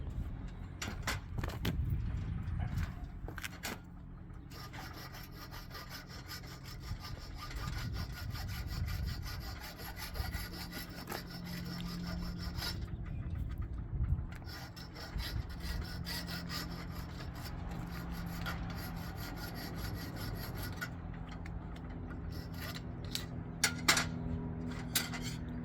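A metal file works the burrs off a bolt on a 1961 Buick Skylark, in repeated rasping strokes. The scraping is fairly quiet and close, with some pauses and a few small metallic clinks, and there is no speech.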